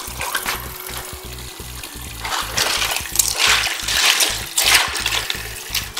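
Water splashes and trickles over plastic keyboard keycaps being washed, recorded with the mic held close, in uneven bursts with a steady low rhythmic hum underneath and no talking.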